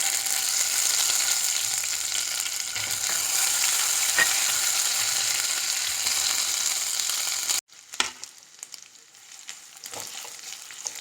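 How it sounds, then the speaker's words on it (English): Ginger garlic paste frying in a hot pan, a loud dense sizzle that holds steady, then cuts off abruptly and gives way to quieter scattered crackles and clinks. "In goes the ginger garlic paste."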